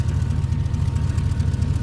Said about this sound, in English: Looking underneath, I just put this Magnaflow exhaust in it.